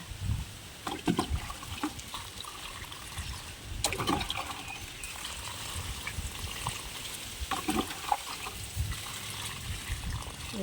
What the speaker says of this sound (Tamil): தண்ணி ஊற்றுறோங்க